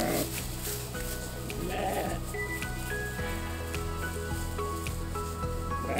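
Dorper sheep bleating at a feed trough on a farm, several short, close bleats scattered over a quiet background.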